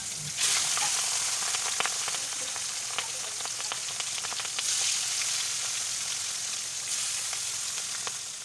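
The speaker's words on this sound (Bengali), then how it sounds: "আমি এখন কড়াইয়ের মধ্যে মাছগুলো দিয়ে দিচ্ছি।" Katla fish sizzling and frying in hot oil in a kadai, a steady dense crackle with occasional sharper pops and spatters throughout, close and continuous with no talk.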